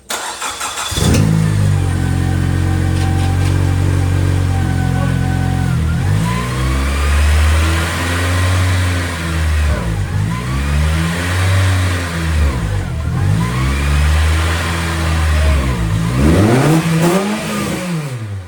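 A car just back from transmission repair starts and drives off, its engine revving up and dropping repeatedly through gear changes, loud and close with no talk.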